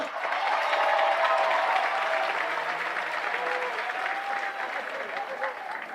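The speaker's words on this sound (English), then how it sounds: "Now clap it up for me so we can move on." An audience claps at the Edison Career and Technology High School Class of 2026 graduation ceremony, producing dense, steady applause from a large crowd that holds for several seconds and slowly eases off.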